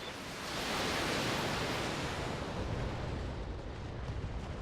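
A BattleTech mech opening fire with medium lasers and LRM-15 missiles, heard as a broad roaring whoosh that swells quickly, holds loud for a few seconds, then eases off.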